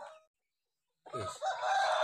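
A brief call cuts off, then after a short silence a rooster crows loudly and close, a drawn-out rising cock-a-doodle-doo.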